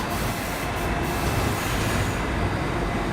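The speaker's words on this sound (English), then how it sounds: "This is the last stop on this train." Train running in a video game: a steady, loud rumble of rolling rail wheels on the track, continuous and close, with no voices over it.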